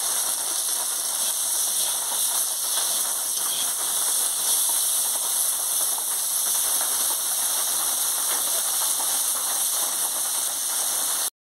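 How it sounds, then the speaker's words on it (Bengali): Bitter gourd frying in oil with a little salt makes a steady, even sizzle that hisses continuously and closely with no talking. "একটু নুন দিয়ে উচ্ছেটাকে ভালো করে ভেজে নিচ্ছি"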